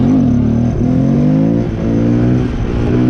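A Grom motorcycle engine revs loudly and close under blips of the throttle, a buzzing mid-pitched drone that rises and dips in pitch across the clip.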